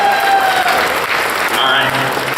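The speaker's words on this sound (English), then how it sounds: "Huge round of applause again for Michael Batista, ladies and gentlemen." A crowd at a Bronycon charity auction breaks into loud, sustained applause, dense clapping filling the hall with a voice audible beneath it.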